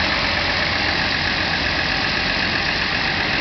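A Datsun 280Z engine idles at a steady, even rumble with fuel pressure at 30 psi. It is close and loud and runs alone, with no voices.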